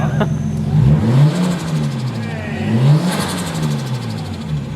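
A Nissan Skyline R33's RB25 engine revs up and down twice in a row on first start, rising and falling in pitch, loud and close.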